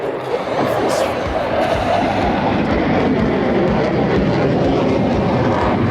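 Aircraft roaring overhead at the Avalon airshow, a loud, sustained rumbling engine noise close by that sweeps across with a brief higher whoosh near the start.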